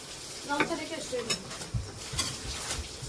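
Braised meat simmers in a pot, a soft sizzle under occasional spoon scrapes and clinks of stirring, fairly quiet with a little background voice.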